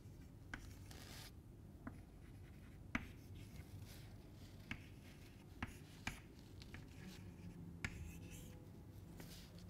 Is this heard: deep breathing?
no